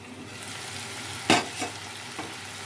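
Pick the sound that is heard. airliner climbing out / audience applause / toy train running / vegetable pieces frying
vegetable pieces frying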